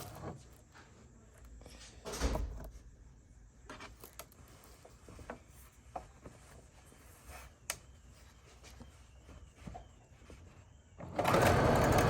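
A sewing machine runs in short bursts, with a rapid mechanical whir at the start and a louder run at the end, quiet clicks and rustling between.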